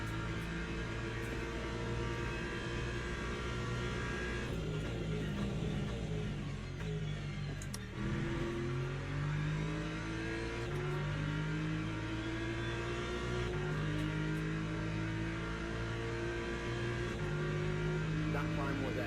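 BMW race car engines in the Le Mans Ultimate racing game drone steadily and loudly, with repeated rising revs through upshifts and a brief lift mid-run, while another car runs close by.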